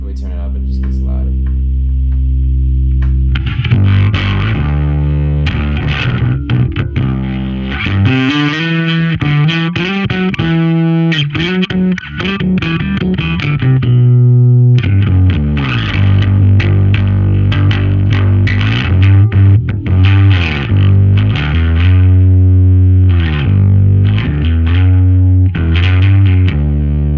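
An electric bass runs through a Darkglass Alpha Omega overdrive pedal with the distortion turned up, giving loud, gritty, sustained low notes and riffs that continue steadily and up close.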